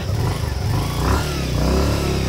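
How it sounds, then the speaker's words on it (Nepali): A Rider Pro Max motorcycle engine rumbles close by, idling and then revving up briefly, a low throaty chug that stays loud throughout. "अब हामी चाहिँ यही बाइकमा जाने हो"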